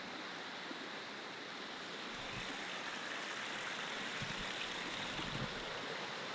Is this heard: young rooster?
no